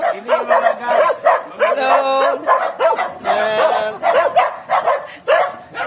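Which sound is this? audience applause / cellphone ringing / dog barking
dog barking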